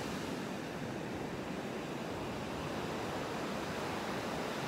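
Sea waves wash steadily along a beach in calm, clear weather, a soft continuous surf hiss with gentle wind noise and no voices.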